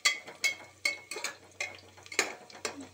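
Onions frying in a pan for a kohlrabi and potato curry, with a spoon stirring and scraping against the pan in repeated clinks over a faint steady sizzle.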